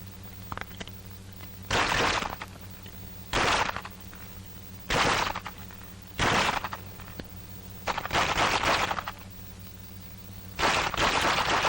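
A rifle fired from the hip in close-combat practice from 1942 gives a series of about six sharp, loud reports at irregular intervals, each ringing briefly, with no talk between them.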